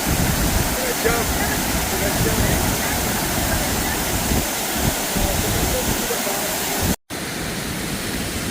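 Continuous close roar of water pouring over the 50-foot falls at Havasupai, broad and steady, with a brief dropout near the end before the rushing resumes.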